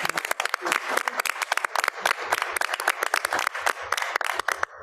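An audience at a county board of education meeting gives warm, sustained applause, with dense clapping close by throughout.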